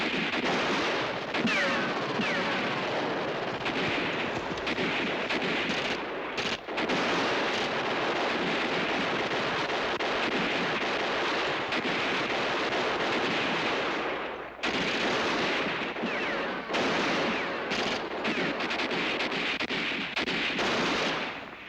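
Dense, continuous gunfire and artillery from a TV war battle scene, loud and sustained with machine-gun bursts and booming blasts, broken by a couple of brief gaps.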